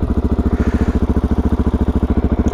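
A Suzuki DRZ 400 Black Edition motorcycle engine idles close up with a fast, even thumping pulse, loud and steady throughout, with no voices.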